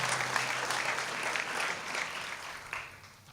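A lecture audience applauds in remembrance of a former director of a religion department, a dense, sustained round of clapping that holds steady and then begins to thin toward the end.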